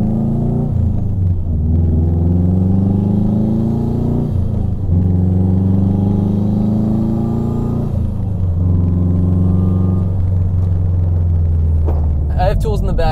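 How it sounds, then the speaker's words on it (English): Turbocharged Subaru WRX STI with a JDM V7 six-speed transmission revving up through short gear ratios. The steady, loud engine drone rises in pitch through each gear and drops at every quick shift. "this is a JDM V7 STi transmission, which we didn't get in the States. I'll let you guys hear the short gear ratio."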